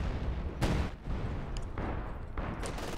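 Artillery barrage in a Company of Heroes-style World War II strategy match on the Langreskaya map, a string of heavy booming impacts and bursts, several dense blasts in quick succession over rumbling battlefield noise.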